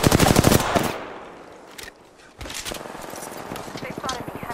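Rapid automatic gunfire from enemies shooting at the player in Apex Legends, loud bursts of fast cracks that pause briefly, then resume at a slightly lower level.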